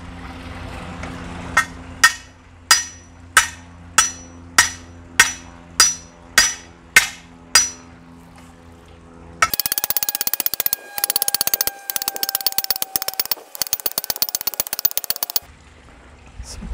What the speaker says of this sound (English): I'll pound it in right about there.